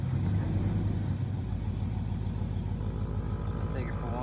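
A budget Chevrolet OBS pickup with new exhaust and a lift kit runs nearby, its engine and exhaust giving a steady throbbing burble with rhythmic pulses, while someone talks over it.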